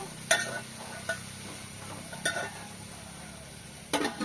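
A spoon stirs turmeric into food cooking in a pan, giving four sharp scraping clinks spaced a second or more apart. Beneath them runs a steady low hiss of gentle sizzling, quiet and close, with no talking.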